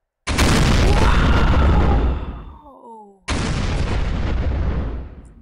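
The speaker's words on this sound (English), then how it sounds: "That was one heck of an explosion." Planet bombing in the video game Garry's Mod produces two loud, roaring explosion blasts: a long rumbling detonation that trails off into crackling debris, then a sudden second boom that cuts in and rumbles on.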